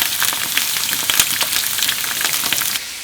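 Garlic scapes stir-fry in a hot pan, giving a steady, close sizzle full of crackles and spits that drops away abruptly near the end.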